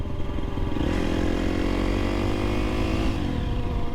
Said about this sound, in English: this is my first time on this bike, so of the 2023 KTM SXF